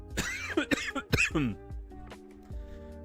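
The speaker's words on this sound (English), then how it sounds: "I cannot shake this cough, man." A few rough coughs and throat-clearing sounds come in quick succession, close and fairly loud, trailing off into quiet.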